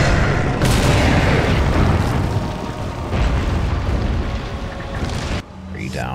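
Grenade blasts setting off explosive barrels in Resident Evil 4, heard as a dense, continuous roar of loud booms and rumbling debris lasting several seconds before cutting off, with a voice speaking near the end.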